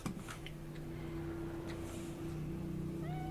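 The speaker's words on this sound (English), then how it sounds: "Sphinx cat." A sphinx cat meows in the video game Cyberpunk, with a drawn-out tonal call over steady game ambience and a short rising cry near the end.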